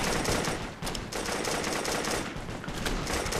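Continuous battlefield gunfire in the military shooter game Operation Flashpoint: Red River, dense rapid automatic bursts and overlapping shots at high, unbroken loudness.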